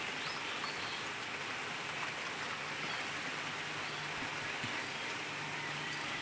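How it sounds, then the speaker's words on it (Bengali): Steady rain falls continuously, a dense even hiss that never lets up, with no voices. "সারাক্ষণ বৃষ্টি পড়ছে ভালো লাগছে না"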